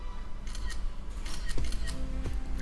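A Korean-model iPhone camera takes photos, its shutter sounding as two brief crisp clicks about a second apart over a steady background hiss.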